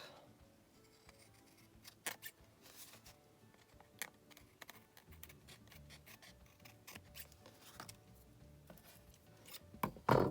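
Sharp snipping cuts of scissors through paper, several irregular snips with soft rustling between, close and fairly quiet.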